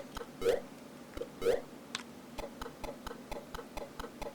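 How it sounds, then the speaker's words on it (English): Faint, evenly spaced electronic ticks repeat steadily after two softer chirps as the character climbs a rope in the ZX Spectrum game Fred, a retro game sound effect, with no talking. "I remember the noise when he climbs the rope now as well."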